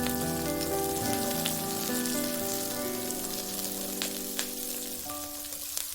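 Garlic scapes stir-frying in cooking oil for a Korean side dish, a dense, even crackling sizzle that holds steady throughout with occasional sharper pops, close and fairly loud, without speech.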